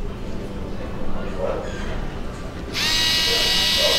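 A Bosch GO cordless screwdriver spins forward with a bit fitted, switching on abruptly into a steady high-pitched motor whine after someone speaks in Spanish.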